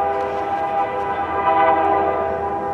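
A loud train horn blares steadily over the rumble of a passing GEXR freight train led by locomotive 3393 at the Forest Road crossing, close by and sustained.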